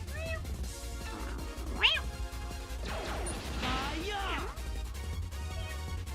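A person imitates a cat, with several rising and falling meows, one louder yowl early on and a cluster of wavering mews later, over a game's steady background music.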